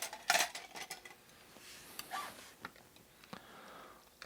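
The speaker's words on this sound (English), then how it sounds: "Give her a little stir. It's pretty clumpy." A metal spoon clinks and scrapes inside a container of rehydrated 1977 long range patrol ration beef hash, a few sharp taps followed by softer intermittent stirring scrapes, close and quiet.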